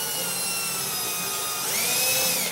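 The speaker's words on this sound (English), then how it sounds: "you're going to just drill a pilot hole." A power drill whines steadily while boring a pilot hole into a ceiling for a 52-inch LED flat panel light, its motor pitch rising near the end. The sound is close, loud and continuous, with no talking.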